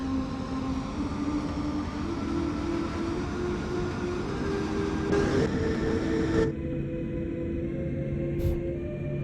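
A DB BR 182 freight locomotive engine in Train Sim World drones steadily with a deep, layered rumble and a whining tone above it, loud and continuous, easing off slightly near the end.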